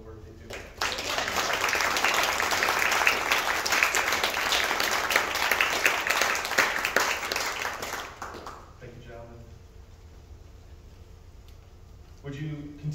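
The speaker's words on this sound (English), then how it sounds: "appreciate them now with a round of applause for the work they do" A church congregation gives a round of applause, sustained clapping that swells quickly, holds steady for several seconds, then fades out, leaving quiet room sound and a voice near the end.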